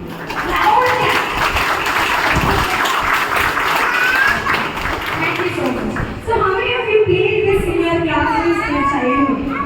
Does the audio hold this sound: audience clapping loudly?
yes